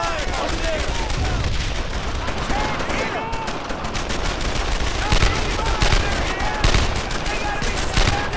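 Sustained gunfire from the World War II shooter Brothers in Arms: Earned in Blood: dense machine-gun bursts and rifle shots crackle continuously at high volume, with shouted voices mixed into the battle din.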